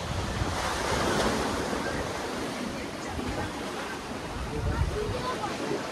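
Sea waves at high tide wash onto the shore of Mousuni Island, a steady broadband surf roar with wind buffeting the microphone throughout, loud and continuous.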